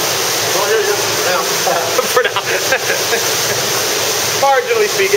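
Ocean waves surge and churn into a sea cave at Nanahoa on Lanai, Hawaii, a constant loud roaring wash with swells of turbulent water, while people talk briefly over it.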